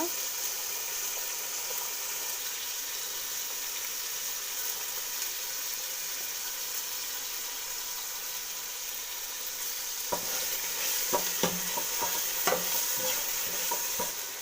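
A pan of tomatoes sizzles steadily at a low level for a long stretch, then a spoon scrapes and clacks against it in a series of stirs near the end.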